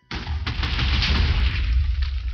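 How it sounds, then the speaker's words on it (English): A Minecraft creeper trophy from a mod sets off a non-damaging explosion, a sudden boom that holds as a loud, sustained rumble with crackling bursts to the end of the clip. "it's a non damaging explosion."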